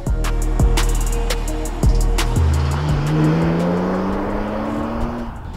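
A 2006 BMW 130i E87 Cup car with a 3.0-litre inline-six engine revs hard, loud harmonic engine tones climbing through repeated gear changes, rising and sharp up close.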